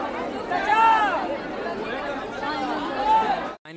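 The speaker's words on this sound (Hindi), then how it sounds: "इतना ज़्यादा भीड़ है।" Pilgrims packed into Baba Baidyanath Dham fill the air with close, steady crowd chatter, with a couple of voices calling out above the babble before a brief dropout at the end.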